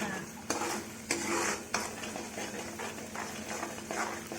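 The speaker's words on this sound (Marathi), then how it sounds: "जोपर्यंत त्या मसाल्याला तेल सुटत नाही तोपर्यंत मसाला हे खालीवरी करत राहायचा चांगल्या प्रकारे." Masala being stirred in oil in a pan while making a paneer curry, with repeated scraping strokes over a soft continuous sizzle, close and fairly quiet.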